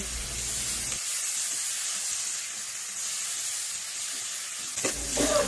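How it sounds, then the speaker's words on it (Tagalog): Garlic, onion and a little meat sautéing in a pan: a loud, steady, close hissing sizzle that runs continuously, with a brief clatter of stirring near the end, alone with no talk. "nagisa ako ng bawang at sibuyas"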